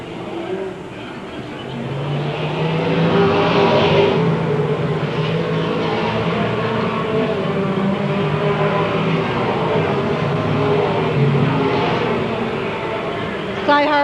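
Race cars in a 1993 MASCAR feature event accelerate as a pack after the pace car pulls off, a loud sustained engine roar rising and holding throughout with a race announcer talking over it.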